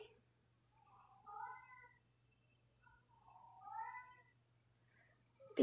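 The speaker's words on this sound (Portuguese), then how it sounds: "Tem um gato aqui que não é meu que tá miando." A cat meows twice indoors, two drawn-out harmonic calls a couple of seconds apart, fairly faint, with a steady low hum beneath and a sudden loud knock at the very end.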